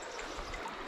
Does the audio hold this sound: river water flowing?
yes